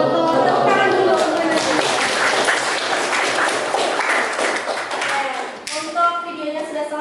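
Students in a classroom break into brief clapping, a burst of hand claps that fades out after several seconds, with voices mixed in.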